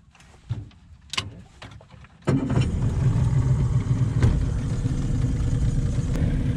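A fishing boat's engine on a halibut and lingcod outing: a few knocks, then the engine catches and settles into a steady low-RPM drone that runs loudly to the end.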